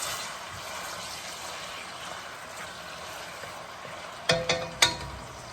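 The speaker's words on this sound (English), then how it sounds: "I'm going to saute this for about 3 to 4 minutes" Onion sautés in a pan, a steady sizzle that ends with three sharp metallic clanks and scrapes of a utensil against the pan.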